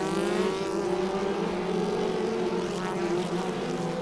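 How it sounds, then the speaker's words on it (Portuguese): Stock Car Júnior race car engine from the 2007 opening round in São Paulo, revving steadily while warming up at the circuit, a continuous loud droning tone with little variation across the whole stretch, no voices. "Aí Thiago Riberi aquecendo no giro do motor"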